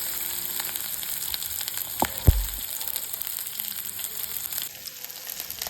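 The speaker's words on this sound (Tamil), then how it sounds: "இப்போது 2 பச்சை மிளகாய் ஆட் பண்ணியிருக்கேன், அதையும் நல்லா வணக்கி விட்டுக்கலாம்." Onion and two green chillies sauté in a pan for a yellow pumpkin dish, giving a soft, steady sizzle with one or two sharper clinks of stirring partway through.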